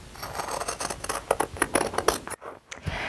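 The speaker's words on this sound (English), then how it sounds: "Now I can cut right on the line that I drew." Scissors snip through fabric along a traced pattern line for a tote bag, a close run of crisp, rapid cutting strokes that pauses briefly near the end before resuming.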